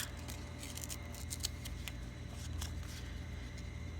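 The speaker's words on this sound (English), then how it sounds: "let us go ahead and tear around the mushroom piece" Paper being torn by hand around a stamped toadstool piece for a collaged craft tag, a steady close, soft ripping texture with small crackles running throughout.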